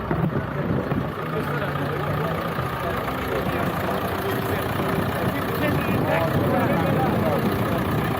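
A Massey Ferguson 35X tractor engine runs steadily throughout, a continuous low rumble with speech over it.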